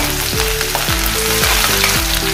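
Ginger, garlic and green chili sizzle in hot oil with cumin in a pan. The frying is loud and steady throughout, with repeated tonal glides layered over it and no talking.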